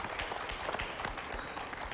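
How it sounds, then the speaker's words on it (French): A studio audience applauding on a French television makeover show, a brief burst of steady, moderately loud clapping. "applaudissements"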